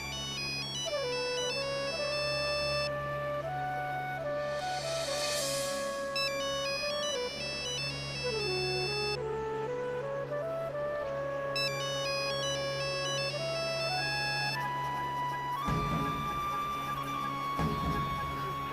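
A phone ringtone plays a repeating electronic melody, steady and fairly loud, with a rumbling noise cutting in near the end.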